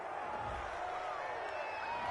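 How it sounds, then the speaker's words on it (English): Stadium crowd in a football video game broadcast at the Patriots' 26-yard line, a steady roaring murmur of disapproval over a penalty call, sustained and fairly loud throughout with no clear voices on top. "Oh, this crowd does not like that call."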